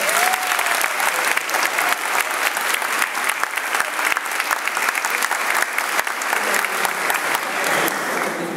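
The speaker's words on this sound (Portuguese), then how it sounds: "Uma salva de palmas." Audience at a church group's birthday celebration for a priest applauding, dense sustained clapping from a sizable crowd, loud and even throughout without a break.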